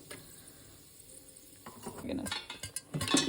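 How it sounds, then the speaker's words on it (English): Popcorn kernels stirred in a pot on the stove: a quiet lull gives way to scraping and rattling as a utensil moves the kernels around, with a faint sizzle beneath. "So just give it a couple stirs so that each popcorn is kind of getting hot."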